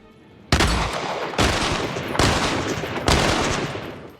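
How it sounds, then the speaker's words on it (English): Gunfire from The Walking Dead TV episode erupts as sustained loud volleys, four overlapping bursts of rapid shots in quick succession, dense and close with no talk. "as they announce their arrival with gunshots just like in the comics"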